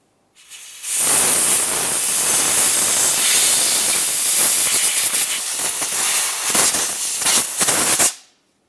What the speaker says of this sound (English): Use compressed air or whatever you might happen to have.